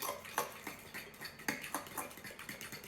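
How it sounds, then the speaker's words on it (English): Spoon clinking and scraping against a bowl while banana bread wet ingredients with vanilla are mixed, a quiet run of irregular taps and scrapes with no talking. "I'm just gonna mix this until it's all combined"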